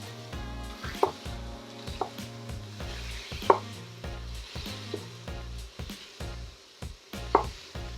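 Bison chorizo being broken up in a hot pan, with a string of sharp scraping and chopping taps from a utensil over a low steady sizzle; the hits come at irregular intervals, close and moderately loud.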